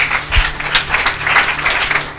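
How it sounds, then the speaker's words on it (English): Audience clapping at an entrepreneurship challenge event, a brief burst of applause from a modest crowd with uneven, fluttering claps, fairly close and steady for a couple of seconds. "We should just clap right now."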